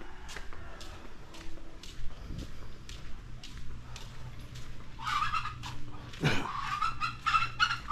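Fowl gobble and cluck in repeated bursts close by, louder toward the end, with rustling and faint footsteps in between.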